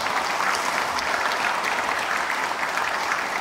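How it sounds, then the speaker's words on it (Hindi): An audience at a business success seminar bursts into loud, sustained applause, a dense, even wash of clapping from many hands for the whole stretch. "उनके लिए जोरदार तालियां बजा दीजिए"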